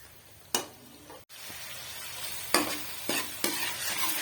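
Ginger and garlic fry for a fish curry, sizzling steadily in a pan while a spoon stirs with several sharp scraping strokes; no one speaks.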